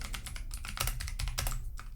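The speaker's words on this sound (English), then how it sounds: "Still typing." Steady typing on a computer keyboard, with rapid, uneven clicks and key taps running continuously at moderate volume, close by and without speech.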